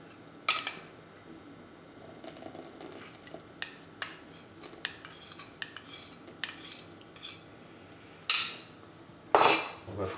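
Whisk clinking against a bowl while crème brûlée mixture with Armagnac is beaten, scattered metallic taps and scrapes at close range with louder bursts of rapid whisking near the end.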